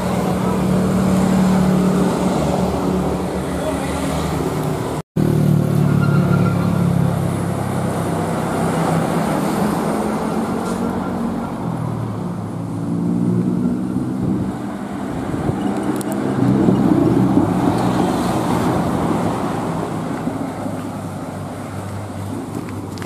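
A Sumber Jaya bus passes along a roadside stretch of the southern route near Limbangan, its steady engine and tyre rumble filling the air with wind noise, fairly loud and close throughout.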